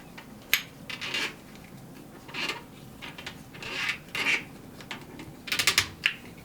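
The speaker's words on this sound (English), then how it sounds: "You go ahead and tighten that bolt." Close, intermittent rasping and ratcheting as a bolt is tightened by hand on a Hoyt RX-8 hunting bow, a series of short scraping bursts with quiet gaps between them and no talk.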